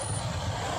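Heavy road traffic with trucks and buses, a dense low engine rumble with a faint air-brake hiss, steady and close for a brief moment.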